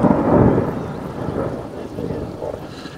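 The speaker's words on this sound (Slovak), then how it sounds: "Ide búrka, idem sa skryť." Thunder from an approaching storm rolls at a fishing lake at night, a deep booming rumble that swells early and then fades into a long, low grumble under wind noise on the microphone.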